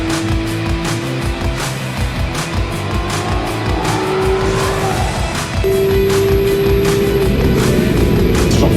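A Porsche 991.2 GT3 RS laps a race circuit, its engine roaring hard with rising pitch through the gears, loud and close from inside or on the car, with no talk.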